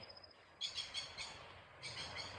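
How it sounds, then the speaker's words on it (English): A parrot in the forest gives several faint, distant raspy calls in short bursts over a quiet background hum of insects. "Parrot."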